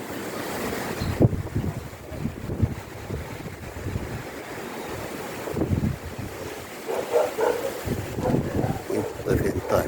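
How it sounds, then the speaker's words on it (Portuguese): Strong gusts of wind in the aftermath of a cyclone rush and buffet the microphone in uneven surges, with distant surf beneath and a voice speaking briefly. "Mas é muito vento ainda."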